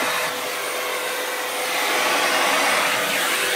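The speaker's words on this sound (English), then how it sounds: "Look at that vacuum work." A Tristar vacuum cleaner runs continuously at close range, a steady loud whooshing roar that swells slightly partway through as it works across a surface, with no voices.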